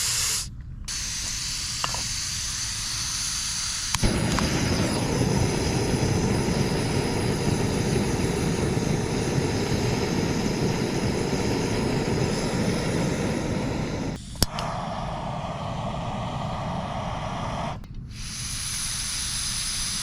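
Backpacking propane stoves burn on a 1-pound propane cylinder adapter, giving a steady close roaring hiss that runs the whole time and shifts in pitch and strength as the flames change, with no voices.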